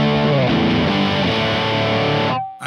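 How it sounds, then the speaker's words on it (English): A guitar through a JHS Colour Box pedal set for heavy fuzz distortion with square wave clipping, a thick, buzzing sustained chord that rings loud and then cuts off abruptly at the end. "Now we're just getting into a lot more fuzz potential and a lot more true distortion, square wave clipping."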